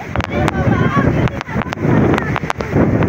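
Strong coastal wind buffets the microphone at Dingalan, Aurora, in heavy continuous roaring gusts, with people talking and shouting beneath it.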